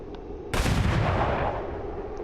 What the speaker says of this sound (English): Shoot him with a pistol.